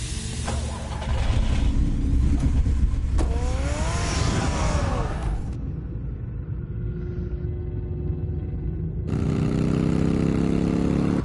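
A car engine from the Batman Telltale game rumbles and revs, rising in pitch as it accelerates, then drops to a quieter idle before a loud burst of driving noise returns near the end.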